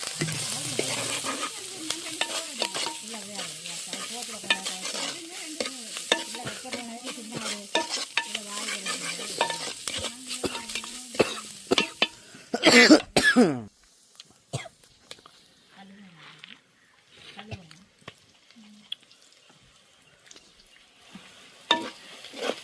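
Country chicken curry sautés in a pan, with a steady sizzle and repeated scraping stirs up close, a voice talking over it, then a few sharp clatters before the cooking quiets.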